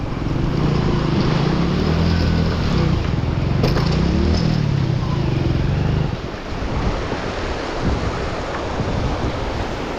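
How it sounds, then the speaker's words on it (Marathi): A vehicle drives through a large, fast-flowing water crossing on the rough Manali to Chandratal road in Spiti Valley, with loud rushing water, an engine rumble and wind buffeting the microphone that ease after about six seconds. "आणि ही लई मोठी वॉटर क्रॉसिंग आहे आता."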